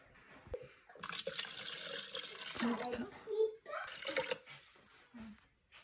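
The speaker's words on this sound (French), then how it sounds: "Je vais rajouter un petit peu d'eau pour que je puisse mettre mon panier de légumes" Water is poured into a Thermomix bowl before the vegetable basket goes in for barley couscous, running in close splashy bursts with a voice talking over it.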